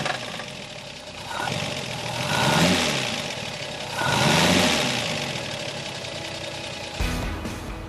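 The six-cylinder engine of a BMW 328 roadster revving, two rising and falling surges of engine noise, fairly close, followed by a sharp rumble at the end.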